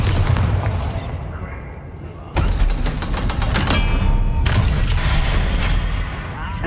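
A Bombarda spell explosion in Hogwarts Legacy sets off a sudden loud boom partway through, followed by clanging and crackling debris amid ongoing game sounds.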